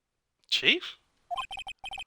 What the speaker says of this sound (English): Someone answer that fucking phone